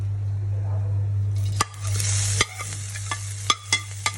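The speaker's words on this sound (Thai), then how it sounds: "กระเทียมนะคะที่สำคัญมาก ใส่ลงคั่วเลยค่ะ" Fish dry-roasting in a pan with garlic and kaffir lime leaves, a steady low hum under soft sizzling, then several sharp scraping stirs and clinks near the end.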